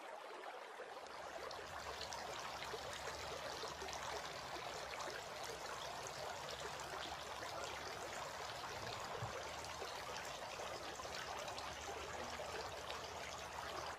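During ablution, water trickles steadily as forearms are washed, a faint, continuous running splash that keeps an even level throughout, with no speech.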